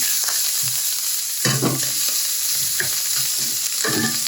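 Ham frying in butter in a pan, a loud close sizzle with several clattering stirs and scrapes from a utensil at irregular moments.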